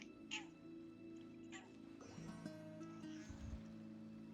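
A pet cat named Maggie yowls in a room, two short insistent calls standing out over a steady background of game music and ambient sound.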